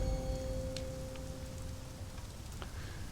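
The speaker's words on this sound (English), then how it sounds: "The rain drizzles." Soft, steady rain patters through a storm in the airship game Sunless Skies, a faint continuous wash with a low hum beneath and occasional small ticks.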